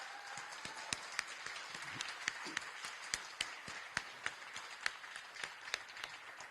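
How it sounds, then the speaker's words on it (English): Scattered applause from the audience at a Los Angeles homeless count press conference, individual sharp claps standing out over a light, fairly distant patter. "Stand up so we can give you a round of applause."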